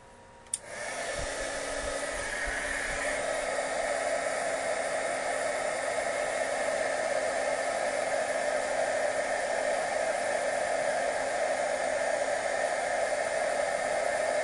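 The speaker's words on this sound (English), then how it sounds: "Now I'm just drying the black ink on here." A handheld heat dryer blows over black ink on a scrapbooking stamp, switching on abruptly and then holding a loud, steady whirring hiss without a break.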